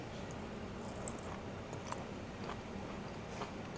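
Crunchy green beans with onions are chewed close to the mouth, giving a run of soft, irregular crunches and wet bites over quiet room noise.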